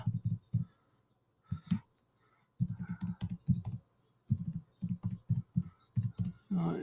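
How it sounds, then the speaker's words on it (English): Close typing on a computer keyboard in short bursts of quick, distinct key clicks separated by brief pauses, with no talking. "We're going to go up here and type it in."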